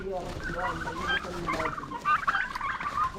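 Turkeys on a turkey farm gobble repeatedly and loudly close by, overlapping warbling calls filling the whole stretch.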